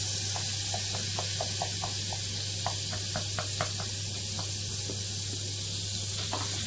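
A butter and flour roux cooking in a pan for mac and cheese, with a soft continuous sizzle, a low steady hum beneath, and a run of light clicks from stirring.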